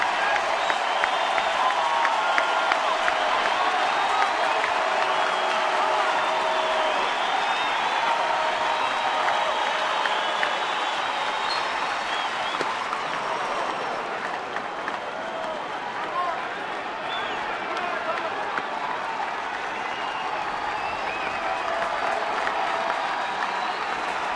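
A baseball crowd in a San Diego stadium gives a standing ovation, sustained applause and cheering rolling on steadily for the whole stretch, loud and spread wide, while a broadcaster talks over it.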